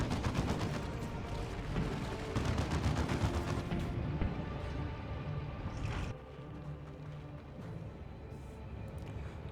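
Dense battlefield gunfire and artillery barrage from the Dawn of War 2 strategy game, Tank Busters' fire rattling in rapid bursts with booming blasts, continuous and loud, thinning to scattered shots later.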